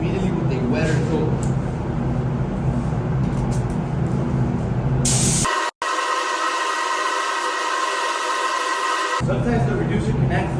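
A spray gun lays a light misty tack coat of sealer onto K5 Blazer panels, a constant airy hiss that cuts off abruptly and resumes as a steadier, brighter spray, close and loud throughout.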